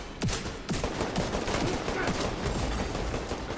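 Rapid gunfire in The Division during a player-versus-environment farming session, with repeated sharp shots in a dense, sustained barrage at close range, no clear talk over it.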